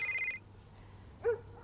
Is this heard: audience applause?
no